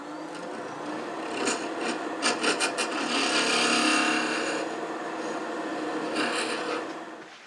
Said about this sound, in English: So I'm using my 1/4 inch hand drill.